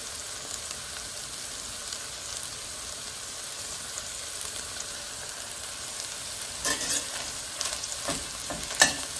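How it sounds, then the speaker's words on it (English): Garlic sizzles in a pan with leftover ham, a steady soft frying hiss close by, with a few louder scraping stirs and pops toward the end. "Okay guys, we're going to add in our garlic."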